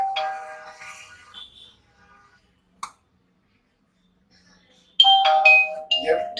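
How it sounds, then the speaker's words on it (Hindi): A CP Plus CP-L23 video doorbell chime plays a bright electronic melody, then goes quiet apart from a single click, and the tune starts again near the end. It sounds close and clear, with no speech over it. "आपको ये चाइम का आवाज है।"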